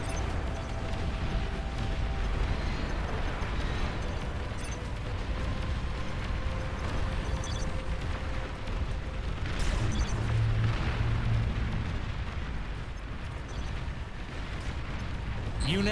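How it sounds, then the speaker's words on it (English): Plasma cannon blasts and explosions from a large 16-versus-16 real-time strategy battle in Beyond All Reason, a continuous deep rumbling barrage with repeated booms, heaviest around the middle, over game noise and some speech. "Those cowards have a long-range plasma cannon."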